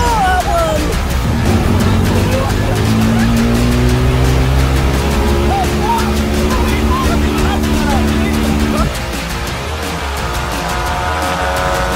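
A Ford Fiesta fitted with a Twister engine runs and pulls away. The engine hums steadily and close, with rising and falling tones and some tire noise, for about nine seconds before the sound drops off.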